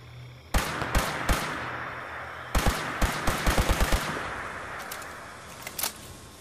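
Gunfire in the Fallout 76 online shooter: sharp shots crack out in irregular clusters, a few spaced single shots and then a quick rapid burst, fairly close and loud over a steady game background with no talking.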